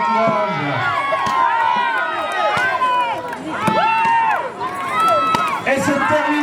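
Crowd at a village festival contest cheering and urging on competitors, dense overlapping shouts, whoops and high voices from many people, close and lively throughout.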